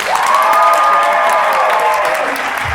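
Loud applause and cheering from a San Diego Comic-Con panel audience at a Supernatural versus The Boys event, with dense clapping and a rising collective whoop sustained across the clip.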